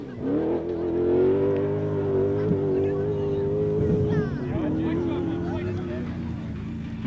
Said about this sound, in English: the 4x4 Mega World Hilux of Venter and Van Alleman, making a nice mess of the mud